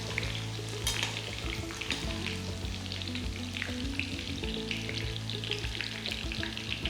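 Chicken frying in hot oil for Payyoli chicken fry, a dense continuous crackling sizzle close by, with faint stirring movements and a low background hum.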